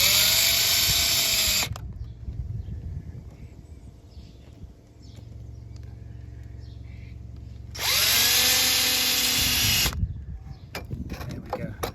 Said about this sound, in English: Couple of holes in the right place, and then